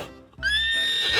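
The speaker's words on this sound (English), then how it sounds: "Horses really are beautiful animals." A single close, loud horse neigh rises into a sustained, shrill whinny lasting under a second.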